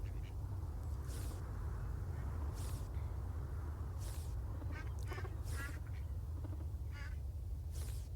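Farm ducks in the video game Farm Together 2 quack in scattered bursts over a steady low background hum, faint and without talk.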